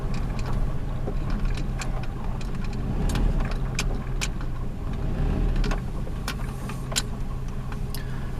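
A car engine that has sat unused for a long time idles just below 1,000 RPM, a steady low rumble up close with scattered light ticks and clicks.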